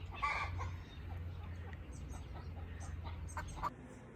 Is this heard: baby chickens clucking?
yes